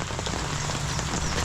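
Heavy habagat monsoon rain pours down in a steady, dense hiss that fills every moment, with no pauses and no voices.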